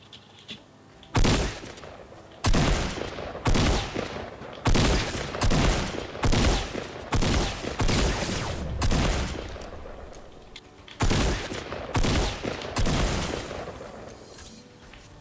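Bursts of gunfire in the Fortnite video game ring out in a dozen or so loud, rapid volleys separated by short pauses, with no talking.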